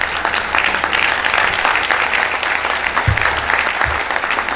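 Loud sustained clapping from a big crowd at a corporate success summit, a continuous wash of hands that holds at full strength throughout, with a couple of low thumps near the end.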